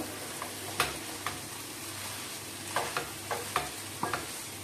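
Diced potatoes being mixed into a cooking pan, heard as a string of light utensil scrapes and taps, some close together, over a faint steady sizzle, with no talking.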